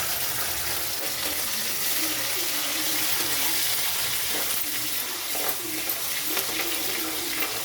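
Onions tossed into hot oil already crackling with mustard seeds, a steady close sizzle and spatter with some stirring, for a Rayalaseema-style fish curry.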